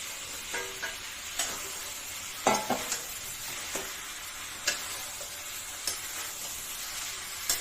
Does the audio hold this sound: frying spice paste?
yes